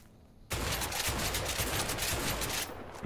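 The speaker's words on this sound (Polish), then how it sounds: "Try shooting at those empty houses." Sustained burst of gunfire in the video game A Way Out, aimed at empty houses: a dense, loud volley of rapid shots lasting about two seconds after a quiet start, with no talk.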